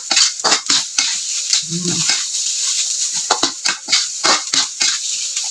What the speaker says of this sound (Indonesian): Diaduk terus goreng sego lur ya